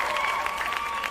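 Brief, moderately loud clapping from a small crowd, a dense patter of hand claps over a faint steady tone.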